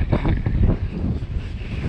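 Wind buffets the microphone in low, rumbling gusts, loud and close, with no voices.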